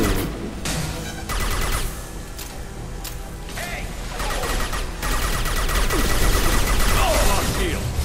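Gunfire in the video game Mass Effect 2: dense, continuous bursts of shots and impacts rolling through a noisy battle mix, with game voices and effects layered over the shooting throughout.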